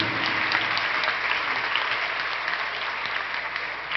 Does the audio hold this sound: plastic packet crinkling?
no